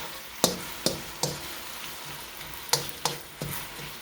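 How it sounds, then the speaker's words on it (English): Chicken with onions and oyster sauce being stirred in a pan, with a soft steady sizzle beneath several sharp scraping strokes of a utensil spaced irregularly through the moment. "Give that a stir."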